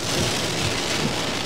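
Heavy rain pours down in a dense, steady hiss, loud and close, with no voices.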